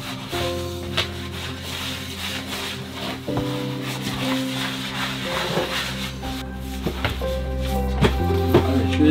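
Boilie ingredients with powdered egg stirred by hand in a bowl, a steady close rubbing and scraping texture running continuously with occasional knocks.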